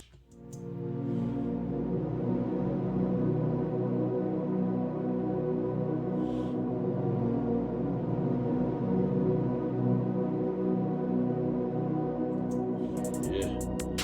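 Dark synth chords built on a minor triad in a trap beat sustain steadily and evenly, a thick held pad with a doubled bass note that fades at the end.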